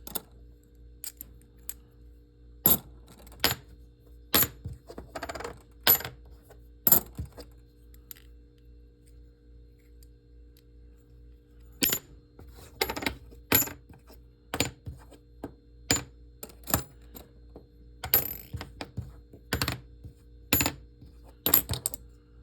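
Coins clink and drop one after another during a coin-roll hunt, sharp metallic taps in irregular bursts with quiet pauses between them, close and with no talk.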